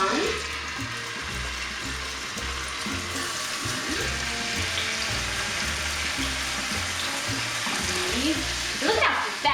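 Salt-and-pepper-seasoned thick tuna steaks sear in a hot pan with a loud, steady sizzle and crackle that holds for the whole stretch, close up and continuous.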